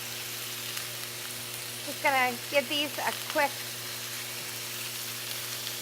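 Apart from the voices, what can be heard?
cubed boneless skinless chicken breast sizzling in pan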